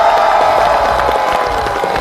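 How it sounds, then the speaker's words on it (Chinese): Studio audience at a Chinese comedy show applauding a performer, a dense continuous clapping that stays loud and even from start to finish. "帮大哥们鸡翅再次掌声鼓励"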